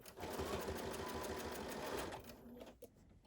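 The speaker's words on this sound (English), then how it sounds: "And I'm stitching right to the other side." Sewing machine stitching in the ditch on a quilt, running in a fast, even whir for about two seconds before slowing and stopping with a few faint clicks, heard close up without speech.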